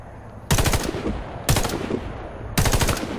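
Three rapid bursts of automatic gunfire crack out close and loud at steady intervals while shooting at targets through a scope in the video game Warface, each burst a dense string of shots over quiet game ambience.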